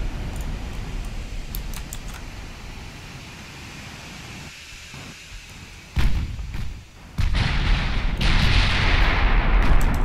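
Warship guns fire in Ultimate Admiral Dreadnoughts, heavy thuds and booming salvos over a constant sea-wind hiss, the loudest reports landing close together toward the end.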